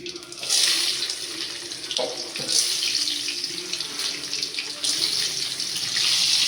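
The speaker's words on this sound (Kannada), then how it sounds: "ಎಣ್ಣೆ ಸ್ವಲ್ಪ ಕಾಯ್ದಿದೆ, ಅದು ಚಟ ಅಂತ ಶಬ್ದ ಬರಬೇಕು. ಈಗ ಬರ್ತಾ ಇದೆ ನೋಡಿ." Chana dal dropped into heated oil for chitranna gojju, giving a dense, continuous sizzle that swells at the start and again near five seconds, close and fairly loud with no talking.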